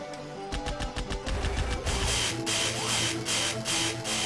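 A rapid series of harsh, buzzy electronic impacts from a video game pulsar weapon hitting an enemy, dense and repetitive, close and loud with no talking, sounding poorly recorded.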